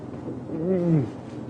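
A person's voice imitates a lion's low contact call, the soft call lions use when close by or searching for each other, heard as one short rising-and-falling moan over outdoor background noise on a safari drive.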